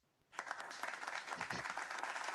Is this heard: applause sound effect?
yes